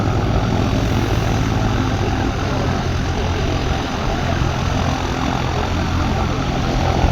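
Steady drone of a light aircraft engine, a Cessna waiting to taxi at the former RAF Sleap airfield, loud and continuous with a broad propeller roar and no breaks throughout.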